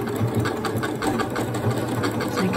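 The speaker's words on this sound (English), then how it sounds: "I will show you the beginning of this stitching from this panel" A Janome Horizon Memory Craft 9480 QC sewing machine stitching a decorative pattern, a loud, steady mechanical whir with a rapid regular needle beat, running without pause and with no talk.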